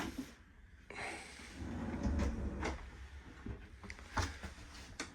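A big IKEA storage drawer is pulled open with a low sliding rumble and a few light clunks, quiet and close, no one talking.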